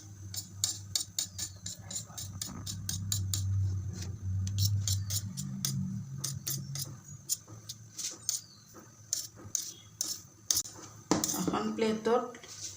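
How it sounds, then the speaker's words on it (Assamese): A knife lifts cut pieces of Kata Nimki dough off a surface with rapid light clicks and scrapes, a person talking throughout, and a louder clatter near the end. "এইখিনি এতিয়া ছুৰীখনেৰে এনেকৈ উঠাই দিব লাগিব"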